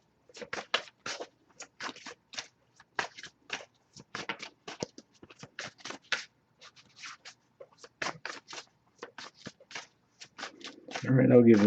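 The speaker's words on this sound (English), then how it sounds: "Alright, I'll give it a few more shuffles here too." Tarot cards riffle and slide in a long series of short, crisp bursts up close, then a louder, duller rustle builds at the very end.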